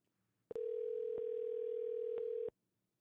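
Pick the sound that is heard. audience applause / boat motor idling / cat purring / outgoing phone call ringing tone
outgoing phone call ringing tone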